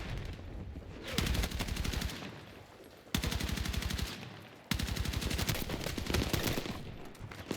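Rapid automatic gunfire in Battlefield 6 sounds in three long sustained bursts with short pauses between, loud and close, with no talk over it.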